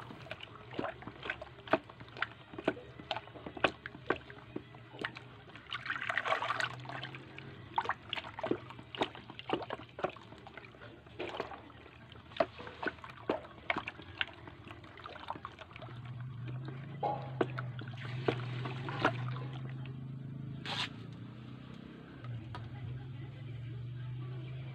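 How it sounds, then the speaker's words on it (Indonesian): Liquid organic fertilizer made from shallots, tomatoes and rice-washing water being stirred, with steady sloshing and trickling water and repeated clicks and knocks of the stirring tool against the container, close and fairly quiet. "Kemudian diaduk biar bahannya tercampur."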